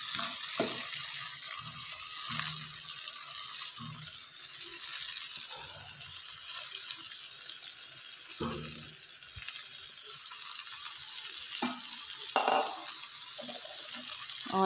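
Chopped spinach goes into a hot pan for aloo palak, bringing a steady close sizzle of frying with scattered scraping stir strokes and light clinks of a utensil against the pan.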